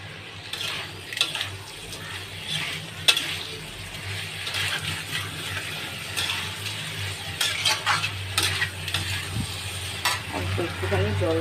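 Food with chilli powder and sugar being stirred in a pan, steady sizzling frying under repeated scraping and knocking of a spoon against the pan, close and continuous with a few louder clanks.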